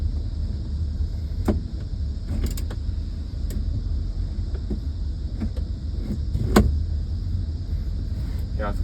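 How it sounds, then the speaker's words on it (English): Old muscle car engine idling as the car reverses, a steady low rumble beneath scattered clicks and clunks, with no talking. "Reverse. We're reversing."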